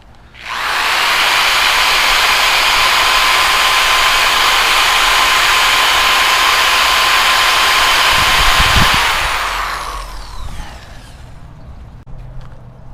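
A loud, steady power-tool roar of a sanding wheel grinding against an edge, running continuously before spinning down.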